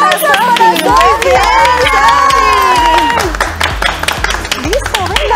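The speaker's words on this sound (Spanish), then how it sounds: "Aplausos para Sofi" Children's group cheering and clapping at an early-childhood activity, with busy applause and excited shouts mixed with an adult voice over music-like background, loud and continuous throughout.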